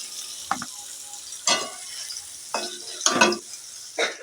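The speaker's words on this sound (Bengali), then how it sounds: "কুমড়ো কাটাগুলো বেশ লাল লাল করে ভাজা হয়ে গেছে" Pumpkin pieces fry in oil until reddish, a low steady sizzle broken by about five sharp bursts of stirring and scraping against the pan.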